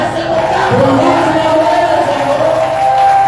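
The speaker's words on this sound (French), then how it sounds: "je te demande de pousser le cri de joie" Church congregation at an evangelical Sunday service shouting a loud, sustained collective cry of joy, with voices blending into a continuous roar.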